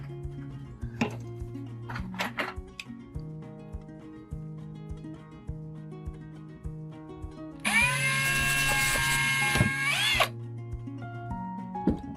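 A power drill whirs loudly for a few seconds, its pitch dropping as it bites through a wooden bead into scrap wood, after quieter clinking and handling sounds.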